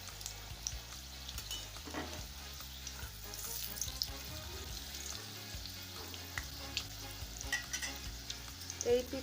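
Stuffed papad sizzling in hot oil in a wok, a dense, continuous close-up frying hiss with small crackles and occasional stirring or turning noises, no voices.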